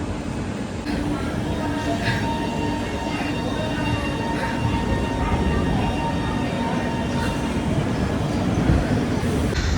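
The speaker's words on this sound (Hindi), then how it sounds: "ट्रेन निकल चुकी है" A passenger train rolls out of Gorakhpur station, its carriages rumbling and clattering steadily at close range while faint voices murmur inside the coach.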